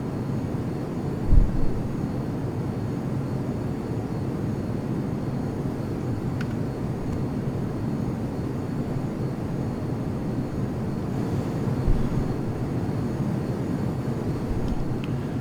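An F-22 Raptor jet in the Prepar3D flight simulator flies over Italy near Venice, heard as a steady low engine roar from the cockpit throughout, with a couple of faint thumps.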